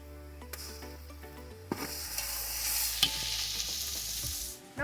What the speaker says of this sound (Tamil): இப்போ நம்ம இஞ்சி பூண்டு பேஸ்ட்டு போட்டுக்குவோம்